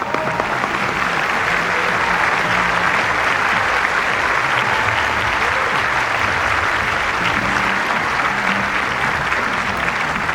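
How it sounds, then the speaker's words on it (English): Sustained applause fills a large banquet hall at the White House Correspondents' Dinner, a thick, even roar of many hands clapping that holds at full strength for about ten seconds. "Please give them a big round of applause."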